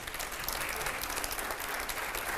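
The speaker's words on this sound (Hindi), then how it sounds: "अब जरा जोरदार तालियां हो जाए अगले सवाल के लिए" Loud, dense applause from a live TV studio audience, steady and continuous throughout with no talk over it.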